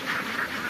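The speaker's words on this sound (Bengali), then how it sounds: "হাঁস পালতেছে।" Domestic ducks being raised outdoors give a brief, nasal quacking sound, close and moderately loud, over a broad noisy background.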